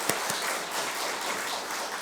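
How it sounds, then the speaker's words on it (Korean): A church congregation at a Sunday worship service claps to welcome a visiting family, a steady, dense applause sustained throughout with a couple of sharper claps standing out near the start. "우리 박수로 한번 환영하면 좋겠습니다"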